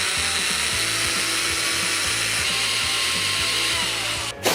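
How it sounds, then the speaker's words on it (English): A power drill drilling into metal runs steadily with a high whining grind, its motor droning continuously before cutting off abruptly at the end. "So you just simply drill until the blue tape touches what you're drilling."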